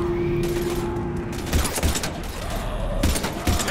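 Gunfire rings out during a firefight in Mass Effect 3. Loud bursts of shots and impacts punch through a dense, noisy battle background.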